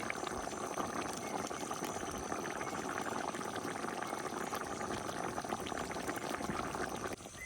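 Halved potatoes boiling in a pot on a rural Bengali village stove, giving a steady, continuous bubbling and rolling-water sound close up, with no talking.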